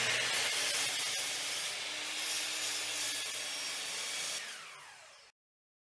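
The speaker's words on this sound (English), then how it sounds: "The easiest way to cut a long piece of lumber is by using the miter saw." A miter saw cuts through cherry wood lumber with a loud, sustained whining buzz close by, easing down near the end as the blade winds off, then stopping abruptly.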